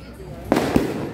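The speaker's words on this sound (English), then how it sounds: "today a lot of fireworks here" Fireworks burst at a night market at Patong Beach in Phuket, Thailand: two sharp booming cracks close together over the crowd and background bustle.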